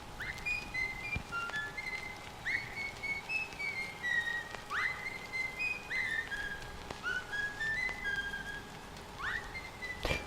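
Repeated rising and falling whistle tones sound in short bursts over a steady soft hiss, with no talking, in a horror-themed video game.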